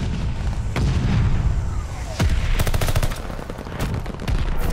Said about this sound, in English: Allies calling the mortar barrage.